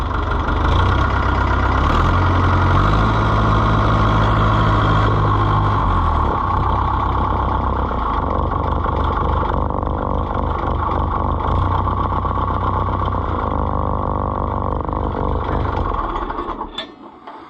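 An Oliver 1365 tractor engine runs at a steady, loud idle just after being cranked, with a low rumble and an uneven pitch early on. It stays close throughout and cuts out at the very end.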